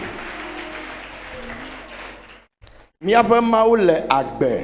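A congregation at a gospel concert celebrating a tenth anniversary applauds for about two seconds before the clapping fades, and then a voice speaks loudly over the hall.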